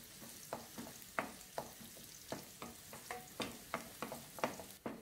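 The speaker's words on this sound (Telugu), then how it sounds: "క్యారెట్ వేయండి." Carrots fry in hot oil in a pan, with quick, regular scraping stir strokes knocking over a low, continuous sizzle.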